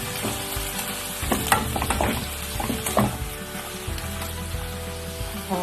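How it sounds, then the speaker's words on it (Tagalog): Chicken stir-fries with black fungus and banana blossom as chicken powder is mixed in: a steady sizzle under repeated scraping and clattering stirs in the pan, close and fairly loud, with no talking. "Tapos, lagyan natin siya ng kunting chicken powder. Tapos mix natin siya."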